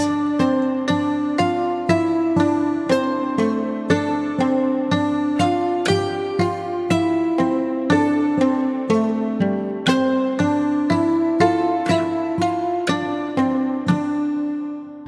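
Layered guitar stumps and guitar percussion in Witcher 3 style folk music, with dense plucked strings striking in a steady driving rhythm over low sustained tones, loud and continuous with no voices.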